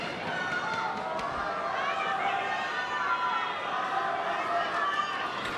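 Dense, steady crowd noise fills an arena during a men's singles badminton final at the Australian Badminton Open, a continuous roar of chatter and cheering at even loudness throughout.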